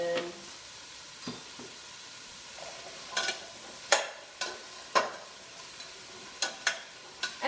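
A spoon scrapes and knocks in a pan as a few sprinkles of salty seasoning are mixed into sizzling food, giving sparse, sharp stirring clatters over a faint, low frying hiss.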